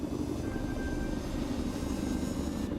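Aircraft engines drone in the video game Lego Marvel's Avengers as a craft climbs: a continuous low rumble with a faint whine riding on top, steady and close, with no voices.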